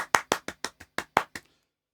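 Eight single hand claps, sharp and close, falling in a quick, slightly uneven rhythm before ending in silence.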